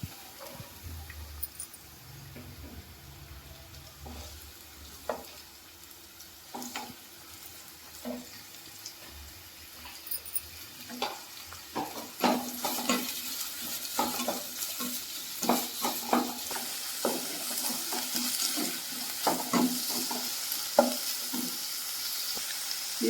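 Onions fry and sizzle in a pan for a vegetable samosa filling, with scattered stirring clatter and scraping. The frying grows busier and louder in the second half, with no talk over it.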